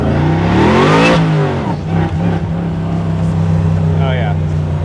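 A 1967 Camaro restomod with a failing carbon fiber driveshaft accelerates hard, its engine note loud and close and climbing steadily in pitch before easing off to a steady idle-like drone.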